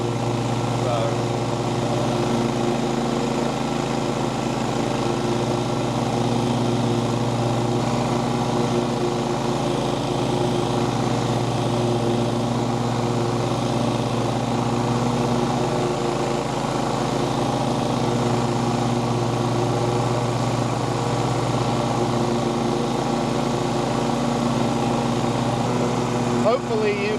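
A lawn mower cuts grass at a 2.5 setting during a fescue lawn renovation, its engine droning steadily and loudly up close for the whole stretch with no break.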